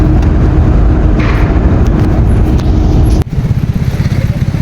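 A motorcycle engine drones loudly close by on a road trip from Alegria to Dumaguete, a steady rough rumble that shifts abruptly near the end into a choppier, pulsing note.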